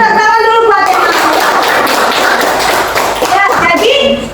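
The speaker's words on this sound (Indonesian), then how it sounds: "Tepuk tangan dulu buat yang tahu" Children clapping together in a classroom after a teacher's prompt, a short burst of close, dense applause mixed with lively young voices chattering over it.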